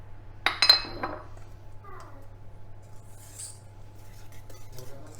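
A few sharp clinks of a utensil against a bowl as cake batter is mixed with sifted flour and baking powder for a sugar-free, fat-free chocolate cake, followed by near quiet.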